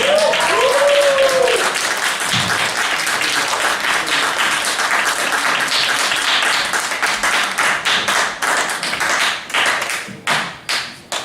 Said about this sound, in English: Thank you for the slow clap.